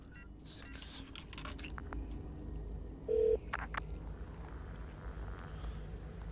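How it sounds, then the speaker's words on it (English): A payphone keypad is dialed in the game Shadows of Doubt, giving a short, clear tone burst over a faint, steady ambient background. "I'm at a payphone."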